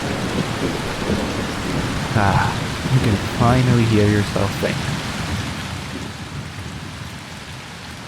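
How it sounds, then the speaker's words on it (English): Steady, heavy rain pours throughout as a loud, even wash, with someone speaking over it for a few seconds in the middle; no distinct thunder crack stands out. "once that rain hits, it just absolutely drowns everything out"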